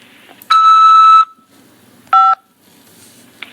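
Phone keypad tone from pressing 5 to accept a call from a corrections facility, a clear sustained electronic tone followed by a second, shorter one after a brief pause.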